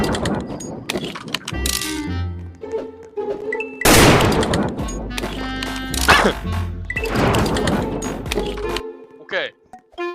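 Bursts of rapid gunfire from a Daredevil gun in a Roblox murder game crack over busy music and effects, with someone talking excitedly throughout.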